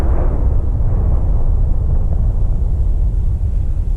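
Power station demolition: a deep, heavy rumbling boom from the explosive bangs rolls on at a distance, loud and sustained as it slowly fades.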